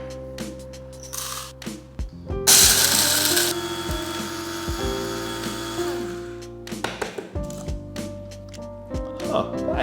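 A cheap Kmart electric coffee grinder grinding coffee beans, with a loud whirring burst followed by rattling, clattering bursts of the mechanism and beans.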